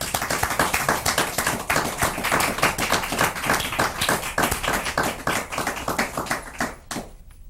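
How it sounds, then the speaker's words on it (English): Families in an audience clap for student poetry winners at an awards event, dense steady applause for several seconds that thins and fades near the end. "I want them to all give these students a big hand of applause"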